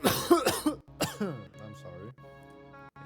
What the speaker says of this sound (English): that's the dog fucking coughing.